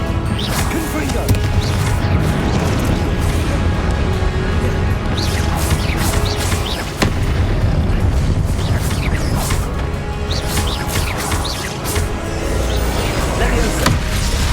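Repeated Confringo spell blasts in a Harry Potter house-sorting video game, dense crashing booms and thwacks recurring loudly over a constant game soundscape, with shouted spell names between them.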